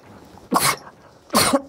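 A person sneezes twice in a studio, two sharp, loud bursts about a second apart against quiet room tone.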